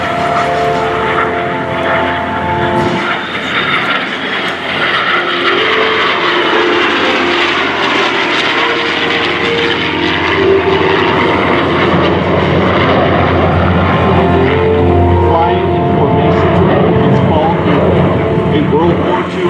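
A World War II era P-51 Mustang and a US Air Force F-22 Raptor fly together in formation at a naval air station air show, a loud, steady engine roar building as they approach, with an announcer speaking over it.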